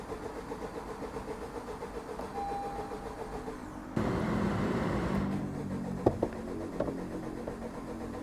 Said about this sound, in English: this car is refusing to start